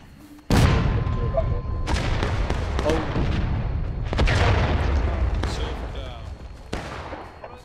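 An artillery cannon fires during an event on Hagerstown Turnpike, with a sudden deafening boom close by and a long rolling echo, followed by more booms and sharp cracks, while voices speak underneath.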